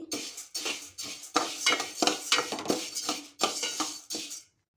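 A spoon scrapes and clinks against a pot as one cup of moong dal is dry-roasted and stirred over a stove, in short repeated bursts close by, with brief pauses between strokes.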